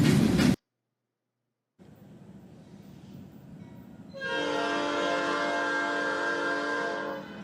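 Norfolk Southern locomotive 4002, leading train 49A with BNSF units trailing, rumbles past and then sounds a loud, sustained multi-tone horn blast that holds for several seconds.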